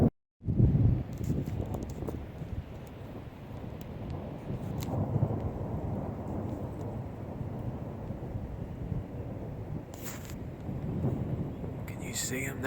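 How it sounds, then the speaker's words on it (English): Steady outdoor wind rumble with broad low noise, gusting against the microphone as a spring thunderstorm rolls in; no clear thunder crack stands out. "it's just watching a spring storm roll in."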